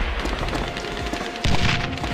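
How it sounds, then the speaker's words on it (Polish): Rapid video game gunfire from Code of Honor: The French Foreign Legion rattles continuously, with a louder burst of shots near the end. "Tam słyszę strzały cały czas"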